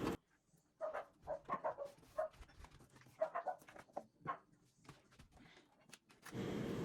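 The neighbours' dogs bark in short, separate bursts from a distance, set against a quiet backyard, with a rising rush of noise at the very end.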